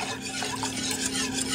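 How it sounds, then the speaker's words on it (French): A whisk works béchamel sauce in a pan for mushroom pesto lasagna, making a quick, continuous rhythmic swishing and soft scraping at close range under a low steady hum, with no speech. "Et je fouette jusqu'à ce que ma béchamel soit terminée à la bonne consistance."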